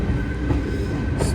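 The Narsapur Express rolls through Mandavalli railway station, a loud, steady rumble of wheels and carriages with rail noise close by, continuous throughout with no talking.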